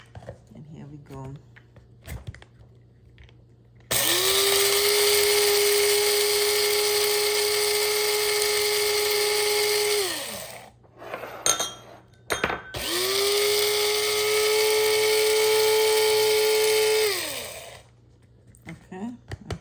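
An electric grinder grinds rosemary in two long, loud steady whirring runs of several seconds each, with a short break between, and brief speech and rustling before and after.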